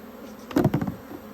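Honey bees buzz while mini mating nucs are being stocked: a brief, close burst of loud, fluttering buzzing swells and fades over a faint steady hum.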